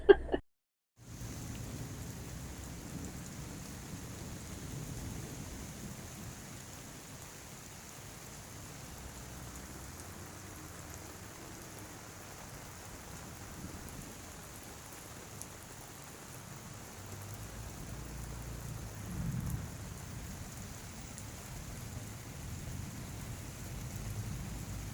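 Steady rain falls at an outdoor market day, a continuous hiss of drops on surfaces with low rumbling thunder rolling underneath, fairly even in loudness for the whole stretch after a brief opening click.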